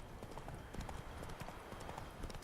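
Horse hooves clip-clop steadily in The Witcher 3, a continuous trotting rhythm of soft thuds over a dense, noisy background, fairly quiet overall.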